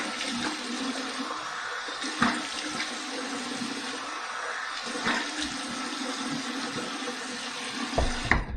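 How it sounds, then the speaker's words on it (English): Cold tap water runs steadily into a bathroom sink for a post-shave rinse, a continuous close splashing hiss with a few louder splashes from hands in the stream. "we're going to do my cold water rinse"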